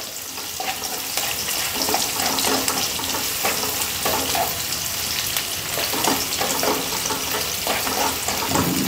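Sliced onion and curry leaves frying in oil for a cauliflower curry with sesame seeds and cashews, a dense continuous sizzle with repeated soft clinks and scrapes of stirring, close and steady throughout.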